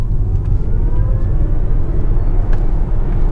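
Hyundai Ioniq 6 electric car with all-wheel drive climbing a steep Vancouver hill, heard from inside as a steady low rumble of road and tire noise with a faint rising electric whine, continuous and fairly loud throughout.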